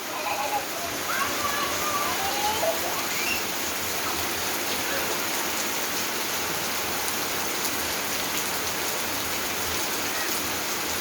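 Steady rain pours down outside while two children play in it, a dense even hiss of falling water with voices faintly audible beneath.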